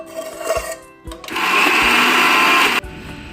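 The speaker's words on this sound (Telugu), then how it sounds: "దీంట్లో నేను మగ్గించి పెట్టుకున్న గోంగూర వేస్తున్నాను ఇప్పుడు గ్రైండ్ చేసి తీసుకొస్తానండి నేను" A mixer grinder grinding cooked sorrel leaves into a sesame chutney whirs loudly for over a second after a few short clicks and taps, then cuts off abruptly.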